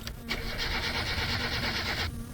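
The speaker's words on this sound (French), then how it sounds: "Le moteur démarre." A car engine in the driving game My Summer Car cranks and starts, giving a steady, loud mechanical whir that holds for about two seconds and then cuts off.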